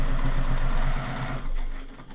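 A sewing machine topstitches fabric in a close, fast mechanical whirr with a steady stitching rhythm, slowing briefly midway and then running on for a moment before stopping.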